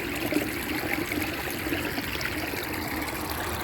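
Irrigation water trickles steadily from a pipe outdoors, a continuous splashing wash with no voices.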